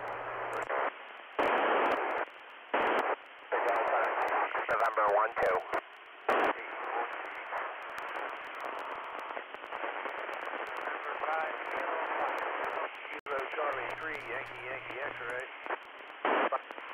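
Amateur radio transmissions through the ISS cross band repeater overlap continuously, with crowded, garbled voices stepping on each other in a narrow, hissy band, broken by brief dropouts and clicks.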